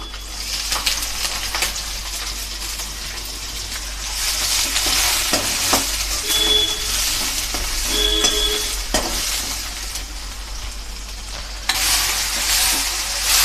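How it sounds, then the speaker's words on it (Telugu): Green chillies and curry leaves with urad dal frying in hot oil in a pan, a steady loud sizzle with stirring scrapes throughout, rising briefly as the spoon moves. "కొంచెం దూరగా వేయించుకోవాలండి మిరపకాయలు"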